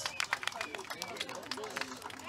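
A crowd applauds a band of saxophone, clarinet, baritone and string players at a Santa Maria concert. The quick, dense clapping is faint and distant, with crowd murmur and a speaking voice mixed in.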